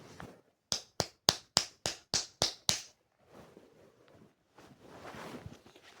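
Eight crisp hand claps ring out close by in a steady, even rhythm, followed by quiet rustling and soft background noise.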